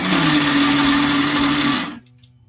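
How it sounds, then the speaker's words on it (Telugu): A blender grinds bottle gourd (lauki) chutney to a coarse texture in a loud, steady whir that runs for about two seconds and then cuts off abruptly, leaving a quiet hum. "పచ్చడిని మరీ మెత్తగా చేసుకోకూడదు, కొంచెం బరకగా పట్టుకుంటే టేస్ట్ బాగుంటుంది."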